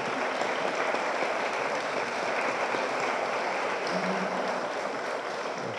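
A conference audience applauds panelists after a discussion on water management, a steady, even wash of many hands clapping at moderate distance, fading slightly at the end.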